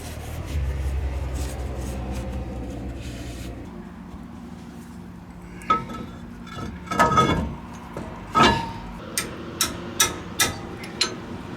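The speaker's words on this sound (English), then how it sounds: "You hear that click, you know it's torque." A torque wrench on a 2007 Ram's Chrysler 9.25 rear differential during a rebuild. Faint rubbing and scraping are followed by a run of five or six crisp, evenly spaced clicks up close.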